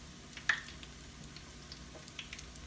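Herring fritters, three at a time, frying in a pan of oil, a faint steady sizzle at low level with one brief sharper pop and scattered light crackles.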